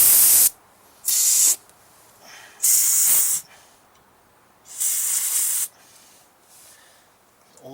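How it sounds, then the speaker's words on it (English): Carb cleaner sprayed into the carburetor of a Kohler engine on a Toro Recycler mower that won't start or runs and dies: four loud, close hissing bursts, each about half a second to a second long, with quiet pauses between them. "Let's get some carb clean and spray it down the keystock."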